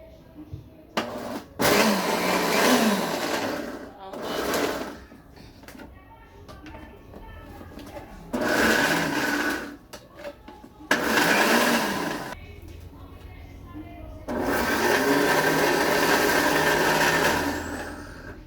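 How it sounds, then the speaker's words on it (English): An electric grinder breaks up dried ingredients for Nigerian vegetable soup in several loud, close whirring bursts of a few seconds each, separated by short quiet gaps. "When you grind it, it's just to break it in pieces."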